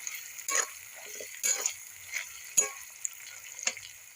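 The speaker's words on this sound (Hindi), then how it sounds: "लहसुन का पेस्ट बना के रखे थे वो पेस्ट इसमें डाल देंगे और 1 मिनट तक इसे भून लेंगे" Garlic and ginger paste frying in a pan for a Indian lobia and methi sabzi, a soft steady sizzle broken by several louder bursts as the paste is stirred, fairly quiet and without talking.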